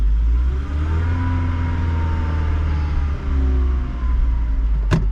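The engine of a Mercedes-Benz SLK230 runs with a steady, loud mid-pitched drone that dips briefly twice, and a sharp click sounds just before the end.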